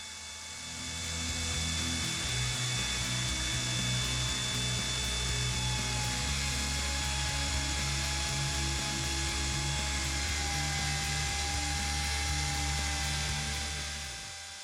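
A steady, continuous mechanical whine of a power drill spinning a motorcycle oil pump on an Aprilia RS 125, running without pause, with a low droning hum underneath, fairly loud and close.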